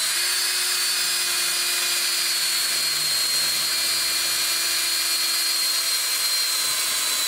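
A power drill whines at a constant high pitch, running loud and steady without pause from start to finish.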